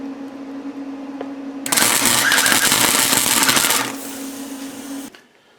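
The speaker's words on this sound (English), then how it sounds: "I'm just going to tack this spring on here" Tack welding a spring onto a homemade welding chipping hammer: a loud, steady crackling arc burst of about two seconds stands out over a constant background hum, then stops, leaving the hum before it fades.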